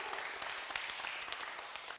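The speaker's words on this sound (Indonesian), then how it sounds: "Tepuk tangannya untuk Pak Haji Amsarudin." Audience applause at a mosque community event, a steady wash of many hands clapping, moderately close and continuous for a couple of seconds.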